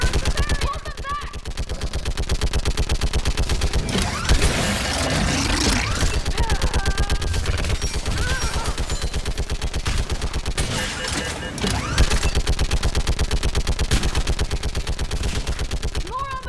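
Sustained rapid gunfire from a mounted gun in the video game Mass Effect 3, during a battle on Rannoch and Thessia, rattles loud and continuous for the whole stretch, with shouted game dialogue over it.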